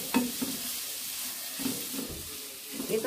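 Potatoes tumble into hot oil with frying onion, ginger, garlic and chilli masala. The result is a steady close sizzle, with a few stirring scrapes and clatters breaking through at intervals.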